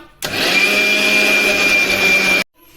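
A kitchen mixer grinder starts abruptly, runs at a steady loud whine for about two seconds while grinding drumstick leaves into spice powder, then cuts off sharply.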